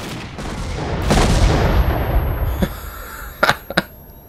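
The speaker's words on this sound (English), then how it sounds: "Just a comical grenade exploding right in my face." A grenade blows up at close range in Stalker: The Way to Pripyat, a loud, booming blast that rumbles and fades over a couple of seconds, followed by a few sharp, cracking impacts.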